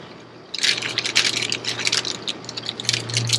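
Small mounting screws for an outdoor flood light rattle and scrape together in a package or hand, a busy run of close, bright metallic clicks with a low hum beneath.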